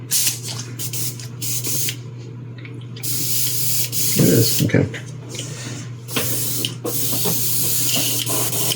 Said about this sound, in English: Is this one spraying?